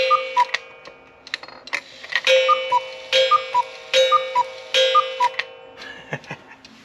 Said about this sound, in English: it is a made in West Germany Black Forest cuckoo clock